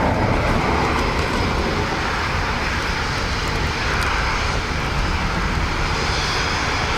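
A Ryanair jet airliner at a wet, windy Dublin Airport gives a loud, continuous engine roar that fills the whole stretch, steady and close, with no talking.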